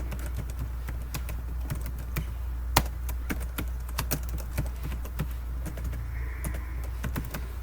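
Rapid, uneven keystrokes on a computer keyboard as the MKDIR command is typed, crisp clicks tapping steadily over a low hum with one louder key strike.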